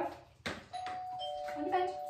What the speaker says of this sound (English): I'm going to press my doorbell.